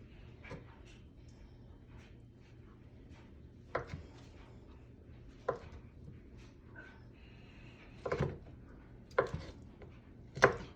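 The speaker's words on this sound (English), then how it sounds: "I'm gonna cut it into slices." A knife cuts an 8-ounce block of feta cheese into slices on a kitchen board, making a handful of sharp, separate taps spaced a second or two apart, with quiet gaps and faint background hum between them.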